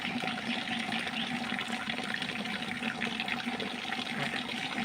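Stream water flows steadily beside a forest streambank, a continuous broadband rush and babble heard alone at moderate level throughout.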